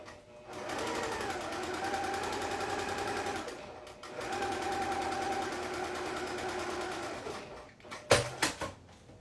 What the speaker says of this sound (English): I'm still getting used to this machine and how backstitching works.